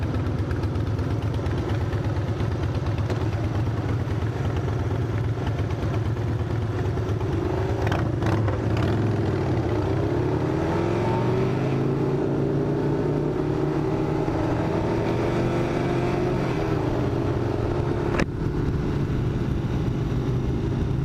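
A Harley-Davidson motorcycle engine rumbles steadily at idle, deep and close, with its pitch rising and falling as the throttle shifts.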